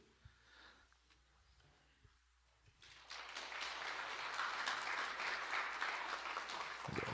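Audience applause at a Korean university graduation ceremony, rising suddenly after a few quiet seconds into sustained, full clapping from a large crowd that fills the hall.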